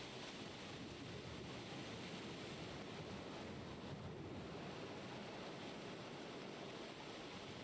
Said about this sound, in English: I love the sound of the water, though.